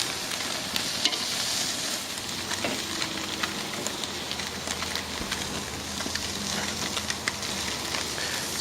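Fish for Baja-style tacos sears on a hot grill. A steady, moderately loud crackling sizzle continues throughout with scattered small pops and ticks, and no one speaks.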